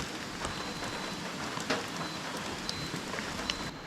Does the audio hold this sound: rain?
yes